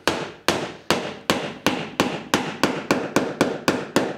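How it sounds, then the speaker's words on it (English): A wooden bench stop is hammered solidly down into a workbench: about a dozen sharp, loud, evenly spaced blows that come slightly faster toward the end, with nothing else in the background. "needs to be hammered pretty solidly down into the bench"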